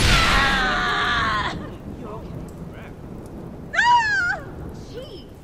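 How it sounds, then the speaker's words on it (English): Rain falls in the Watch Dogs video game as a steady hiss, with a faint thunder rumble. Brief tonal game sounds break in near the start and again midway. "When did it start raining?"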